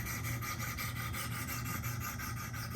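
A Spyderco Para 3 knife blade is worked on a Wicked Edge sharpener, giving a quick, even train of rasping strokes, close and steady, with no pauses between passes.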